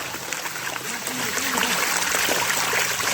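Continuous rush of borewell water pouring and splashing into a bucket, steady and fairly loud, with voices talking over it.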